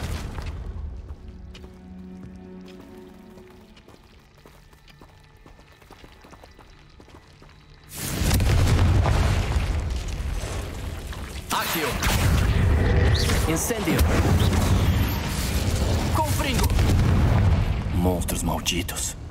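Confringo fire spell blasts from the Hogwarts Legacy game, a sudden loud explosive burst followed by sustained rumbling booms and crackling impacts, with a brief second surge partway through.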